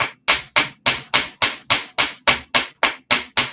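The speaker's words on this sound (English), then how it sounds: "when I'm striking the metal and pulling the hammer. So I'm planishing or pushing" Hammer planishing dead soft copper wire: twelve sharp, evenly spaced metallic strikes, close and loud, each ringing briefly before the next blow in a steady rhythm.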